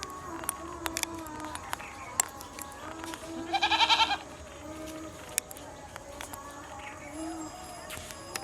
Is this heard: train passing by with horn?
no